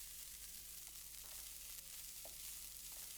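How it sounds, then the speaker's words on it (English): Cold cooked rice stir-fries in smoking hot oil in a pan with a wooden spoon, a steady quiet hiss of sizzling with faint scrapes, alone throughout. "Then stir-fry it for 30 seconds and spread it out using the back of the wooden spoon"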